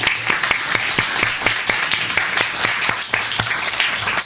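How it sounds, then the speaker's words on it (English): Audience at a debate on whether God exists applauding, dense rapid clapping from a room full of people, loud and steady for several seconds with no talk over it. "A round of applause for her."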